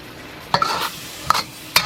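Mongolian beef ingredients with garlic stirred in a hot pan, three distinct scraping strokes of the utensil over a light sizzle, close and fairly quiet.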